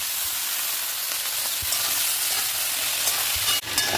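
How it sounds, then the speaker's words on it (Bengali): Steady, loud sizzling of mixed vegetables frying in hot oil tempered with asafoetida, a continuous crackling hiss with an occasional clatter of stirring. "এবার আমি সবজিগুলো তেলের মধ্যে দিয়ে দেবো।"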